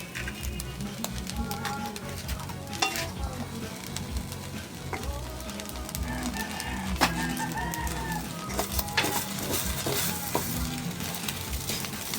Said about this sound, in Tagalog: Hindi nilaga ito, sinangag ito